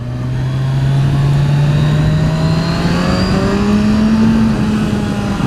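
A Kawasaki Z1000SX motorcycle pulling hard in second gear, its engine note climbing steadily as it accelerates, loud and close with a smooth rising drone and no talk.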